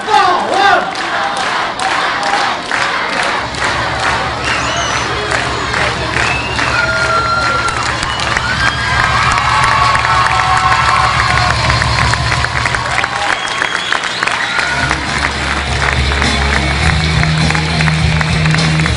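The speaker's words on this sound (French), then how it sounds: "Vous allez l'applaudir très fort." A large crowd at a football team presentation cheers and claps loudly and continuously, with rhythmic chanting and a booming French announcer voice rising over the noise.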